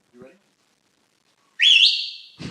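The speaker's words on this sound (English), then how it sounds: "Are you ready for this big whistle?" A person whistles one loud, sustained, high note that bends and wavers before cutting off, preceded by a short burst of speech and followed by a brief voice.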